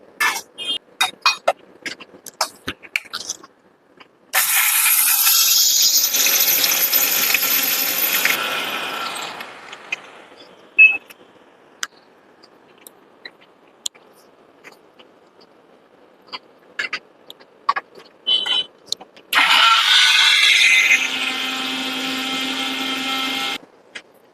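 A small Prestige bullet-style mixer grinder grinds garam masala spices in two loud, steady whirring bursts of several seconds each, separated by clicks and rattles as the jar is handled.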